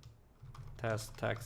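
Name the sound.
typing on a computer keyboard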